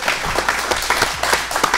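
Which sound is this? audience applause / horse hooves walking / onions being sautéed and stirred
audience applause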